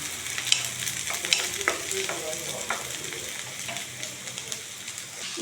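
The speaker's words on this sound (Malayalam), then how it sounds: "ഇനി ഇതിൽ കിടന്നിട്ട് നന്നായിട്ടൊന്ന് മൊരിയട്ടെ കേട്ടോ" Sliced bitter gourd sizzles as it fries and crisps in hot oil in a pan, a steady close crackle punctuated by occasional stirring scrapes, with no speech.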